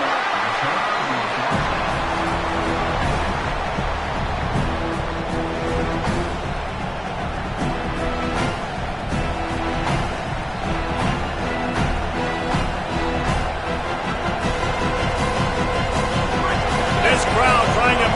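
A steady roar from a stadium crowd at a college football video game, the noise building to unsettle the offense, broad and continuous with a commentator's voice speaking over it throughout.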